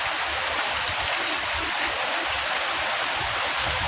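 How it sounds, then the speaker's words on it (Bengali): Heavy rain pours around a house while rainwater flows across the ground, making a dense, continuous roaring wash that stays loud and even throughout, with no voices. "প্রচুর বৃষ্টি হইতেছে এখন, দেখেন কি তরিক বৃষ্টি, অনেক বৃষ্টি হইতেছে।"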